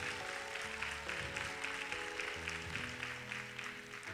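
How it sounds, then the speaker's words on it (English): Audience applause for a Defense Force band at a concert, a steady wash of clapping that runs throughout at moderate level beneath sustained band tones. "I turn now to our illustrious Defense Force ensemble, a band that's here today. Give them a round of applause."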